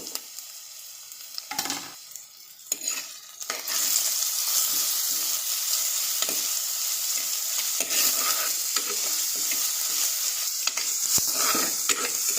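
Crushed shallots and ginger fry in hot oil for a sardine curry, a steady close sizzle with stirring scrapes after a quieter opening moment.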